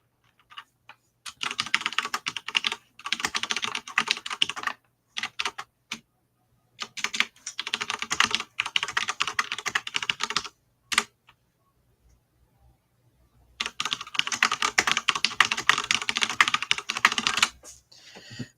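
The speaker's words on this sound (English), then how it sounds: "there is some typing in the background, because as I have been told, my keyboard super loud" Rapid, loud clattering of keys on a computer keyboard in bursts, with short pauses between flurries of typing.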